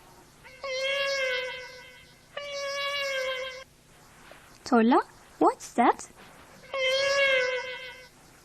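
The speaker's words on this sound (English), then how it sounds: "It's a cat." A cat meows clearly several times, each call long and harmonic, with a voice speaking briefly between the meows in a classroom setting.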